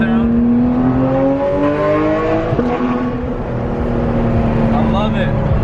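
A Porsche engine revs and drones through a small town, a loud close sustained note that rises and falls in pitch with echoes off the surroundings.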